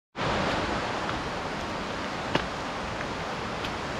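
Bradley Fork, a mountain creek in the Great Smoky Mountains, rushes in a steady, close broadband wash of water that holds even throughout, with one brief sharper splash or knock partway through.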